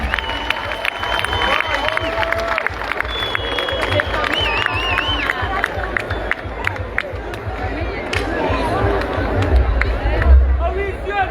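A large festival crowd at the Baía das Gatas 2024 concert show on São Vicente claps and cheers, a dense, continuous roar of applause and hubbub mixed with voices, holding loud throughout and swelling near the end.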